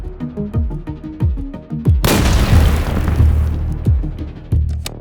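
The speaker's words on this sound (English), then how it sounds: "Russian forces deployed the heavy flamethrower multiple launch rocket system" A heavy flamethrower multiple launch rocket system fires a barrage: a run of sharp, booming launches is followed by a huge roaring blast that rumbles on for about two seconds, then more loud thuds.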